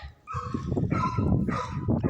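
A puppy barks and yips in a short, repeated burst of close, fairly loud, excited barks that run almost continuously with no talk.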